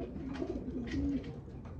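A racing pigeon of the Black Power line coos softly in a breeding loft, a low, faint rolling coo close by with no talking.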